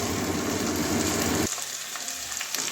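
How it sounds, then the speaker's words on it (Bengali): Three eggs sizzling in a frying pan, a dense crackling hiss that drops suddenly to a quieter, sparser sizzle halfway through, with no voices. "হালকা লাল লাল করে ভেজে নেবো তিনটা ডিমের কাঁচা গন্ধটা যাওয়া পর্যন্ত ভাজবো"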